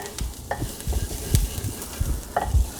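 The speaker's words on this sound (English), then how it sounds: "we want to try to just keep stirring it gently, flipping it around so it all cooks evenly and browns up nicely" Chopped onion is stirred and flipped around a hot pan as it browns, giving soft sizzling under repeated scraping, shuffling strokes of the utensil at a gentle, uneven pace.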